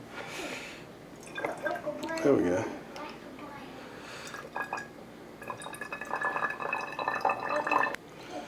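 A thick garden mixture poured slowly through a small funnel, giving soft liquid trickling and dripping sounds in bursts under close conversation.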